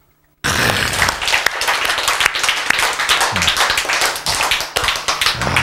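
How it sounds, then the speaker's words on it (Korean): A crowd bursts into loud, sustained applause, dense clapping from many hands starting abruptly after a brief silence. "박수."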